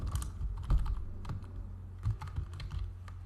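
Quick typing on a computer keyboard while writing a code comment in Java, a rapid uneven run of close key clicks with no talk.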